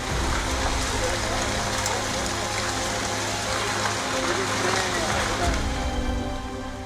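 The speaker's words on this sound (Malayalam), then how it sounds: "പുറത്ത് മഴ ആർത്തിരമ്പുന്നുണ്ട്." Heavy rain pours outside a hotel, a dense, continuous hiss and patter that stays loud and steady throughout with no letup.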